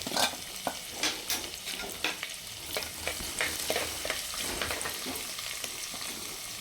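Garlic and ginger frying in hot oil with mustard seeds and fenugreek for a Kerala fish curry, a loud crackling sizzle with irregular spoon scrapes and clinks against the pan, no one speaking.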